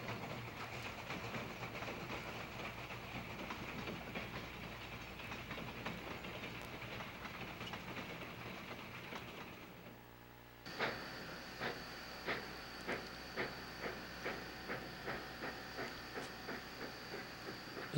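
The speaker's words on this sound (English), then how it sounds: "This is an eastbound freight at Caledonia." An eastbound steam freight train at Caledonia rumbles past with a steady hiss, then a rhythmic clickety-clack of wheels over rail joints takes over, loud and close, with no voices.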